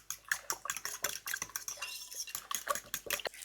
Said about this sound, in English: I'm going to mix it up again.